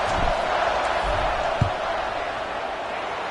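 A Madden stadium crowd waits on a field goal attempt with a steady, loud roar of many voices. One brief thump rises out of it, and commentary runs over the top.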